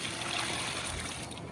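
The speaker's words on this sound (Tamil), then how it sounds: "இப்ப தண்ணி வந்து பாத்தீங்கன்னா ஊத்திடலாம்" Water pours steadily onto soil in terrace garden planters, a soft continuous trickle and splash, fairly faint, with no voices.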